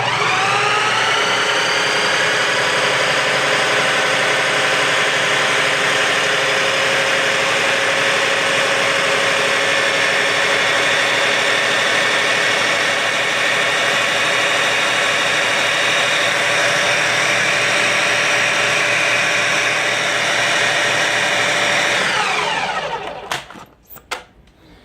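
A stand mixer whirs steadily for over twenty seconds, beating egg whites into almond flour batter for keto bread, a loud even motor hum that cuts off abruptly near the end.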